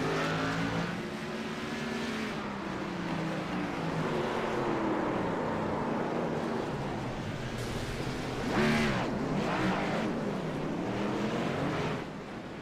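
Xfinity Series stock car racing on its final lap, a steady loud engine drone with shifting pitch as the car passes, a rising swell of engine noise near the end.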